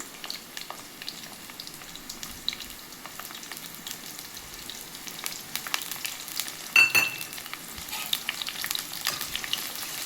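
Green chillies fry in hot oil for an egg tomato curry, with a steady close sizzle, spitting crackles and intermittent stirring scrapes, no talking.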